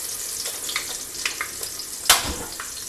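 Ginger and urad dal sizzling in hot oil in a pan, a steady frying hiss broken by light stirring scrapes and one sharper clatter, close by.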